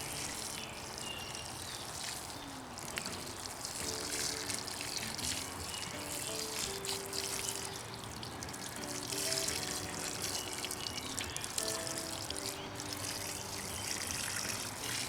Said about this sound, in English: So we'll water these.